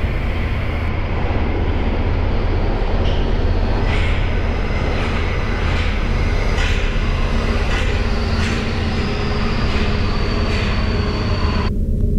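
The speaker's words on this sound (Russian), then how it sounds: "А тем временем издалека уже ехал поезд." Metro train approaching in a subway, a loud continuous rumbling roar with rhythmic clacks of wheels over rail joints repeating about every second, steady and close.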